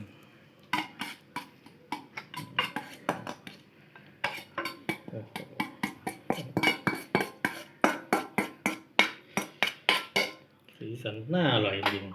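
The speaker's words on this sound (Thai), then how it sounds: "เราก็จะ เทเครื่องปรุงใส่นี่เลยนะครับใส่กับกุ้งที่เราเตรียมไว้นะครับ" Seasoning poured from a bowl onto prepared shrimp for Thai shrimp larb, with a rapid run of close, crisp clinks and scrapes of a spoon on dishware in uneven bursts, then a short rustling pour at the end.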